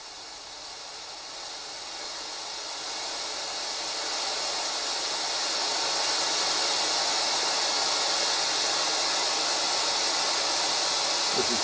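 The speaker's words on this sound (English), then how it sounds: "This is really nice white noise" Steady broadband hiss from a homemade synth noise module on a freshly soldered PCB, rising slightly in level over the first few seconds and then holding constant, with no talk over it.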